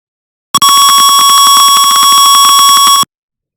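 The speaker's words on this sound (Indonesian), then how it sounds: "jika suhu meninggi, maka buzzer akan berbunyi" Simulated buzzer in an Arduino temperature-sensor circuit in Tinkercad, one loud continuous electronic tone with a rapid buzzing pulse, sounding alone for about two and a half seconds before cutting off abruptly.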